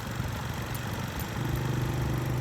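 A motorcycle engine idles steadily, close and fairly loud, with a low throbbing rumble that grows slightly stronger partway through.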